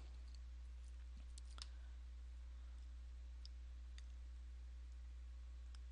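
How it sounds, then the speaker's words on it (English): A computer mouse clicks a few times, faint and scattered, over a steady low electrical hum in a quiet room with no talking. "So I'm clicking on NXT Libraries."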